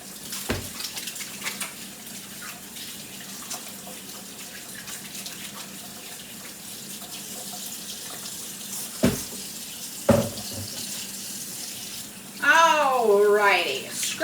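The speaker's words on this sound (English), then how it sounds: "got my hands all washed, cleaned up here" A tap runs steadily while hands are washed, a continuous hiss of water with a couple of knocks, and a short burst of voice or whistling rises near the end.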